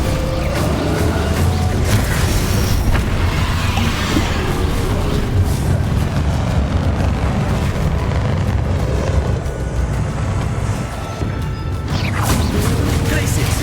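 Confringo spell explosions in the Hogwarts Legacy video game, a dense, loud stretch of blasts, crashes and mechanical clatter layered continuously under speech.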